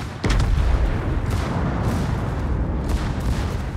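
Warship guns firing in a World of Warships naval battle: a loud booming shot opens into a dense, rumbling roar of artillery that carries on with further heavy thuds.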